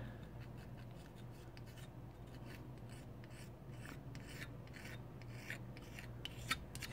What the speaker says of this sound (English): scrape off the unwanted gasket that were left behind